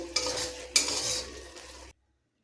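Vegetarian khichuri stirred in a pot after the fried spice paste goes in, a close, thick scraping and sloshing of a utensil with two sharper knocks against the pot, ending abruptly in silence, with no talking.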